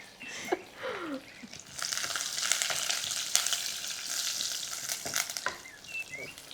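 Garlic sizzles in hot oil in a pan, a continuous crackling hiss with a few stirring scrapes, close and steady with no voices.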